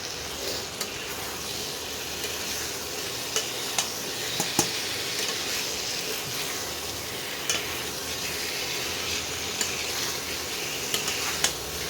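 Cauliflower frying with spices in a pan alongside potatoes, a constant loud sizzle broken by scattered scrapes and clinks of a spoon stirring against the metal, with no one speaking.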